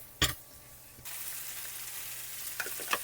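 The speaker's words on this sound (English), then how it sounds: "you want the rosemary to hit the hot oil as well" Sprigs of rosemary dropped into hot oil in a pot for a slow-cooked beef stew, a sharp clatter followed by steady close sizzling and frying with a few stirring knocks.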